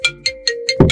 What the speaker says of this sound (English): I guess your phone is ringing.